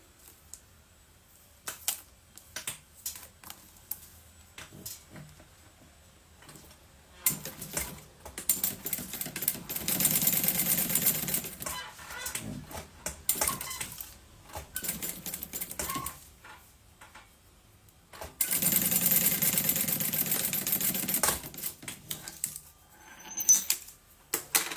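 A sewing machine stitches a document holder made of montana fabric. Two sustained bursts of rapid, buzzing stitching are heard, separated by quieter stretches of scattered clicks and handling noises.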